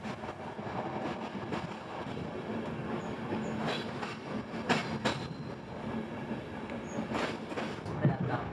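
A passenger train runs through central Bulgaria, heard from inside the carriage as a steady rumbling clatter with rail squeals and sharp knocks near the end. Faint voices can be heard in the background.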